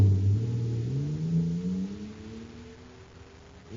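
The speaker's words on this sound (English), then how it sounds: "Listen to that fire-controlled jet car go now." A jet car engine roars steadily, its pitch climbing slowly and then easing off, with no voices.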